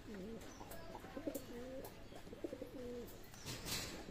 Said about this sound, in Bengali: নিতে পারবেন পাকিস্তানি ব্লাড লাইনের কবুতর।